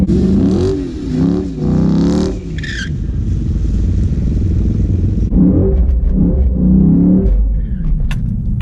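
A Chrysler 300 SRT8 with bolt-on upgrades and a transmission shift kit accelerates hard at the track. Its engine roars loudly and close, rising through revs and dropping at gear shifts, with rumbling and some clatter throughout.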